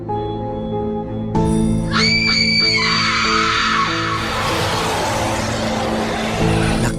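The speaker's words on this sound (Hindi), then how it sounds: "बाबा लंगोटी लाल का नाम सुन के सारे ज़ॉम्बी जोर जोर से चिल्लाने लगते हैं।" Zombies in an animated horror-comedy story scream loudly: a sustained chorus of shrill yells and howls over a droning background, building into dense overlapping noise.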